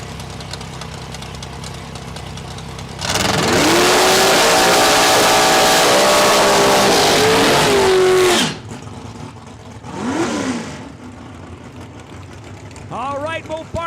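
At Saskatchewan International Raceway, a drag race car launches with a loud, roaring full-throttle run lasting several seconds, then cuts off. A brief engine rev and distant engine noise follow, with an announcer talking.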